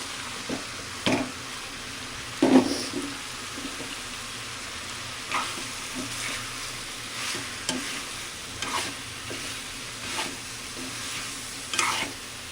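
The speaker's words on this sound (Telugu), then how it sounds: "రొయ్యలు బాగా వేగిపోయి నూనె కూడా బయటకు వస్తుంది సో ఇప్పుడు మనం బీరకాయ ముక్కలు అయితే వేసేసుకున్నాం" Prawns and tender ridge gourd pieces fry in oil, a continuous hissing sizzle broken by repeated stirring scrapes and spatula knocks at an irregular pace.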